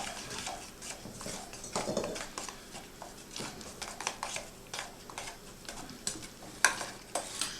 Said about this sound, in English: Just want to mix it in well.